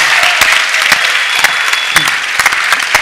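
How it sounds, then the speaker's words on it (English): An audience gives loud applause for three discussants at the close of a panel debate, a continuous clatter of clapping with distinct sharp claps popping out near the listener. "Please give a big round of applause to our three discussants."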